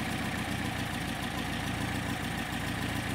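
A Porsche 356 engine idles steadily as its Solex 40P11 carburetors are adjusted, a loud close-up throb with a fast, even pulsing beat and a constant rushing hiss, and no voices.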